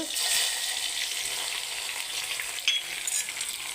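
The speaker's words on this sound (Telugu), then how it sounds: "దీన్ని లైట్గా గోల్డెన్ బ్రౌన్ వచ్చే వరకు ఫ్రై చేసుకుందాం" Gentle, continuous sizzle of onions, garlic, cumin and mustard seeds frying in oil, fairly quiet and close, with a few small pops and stirs.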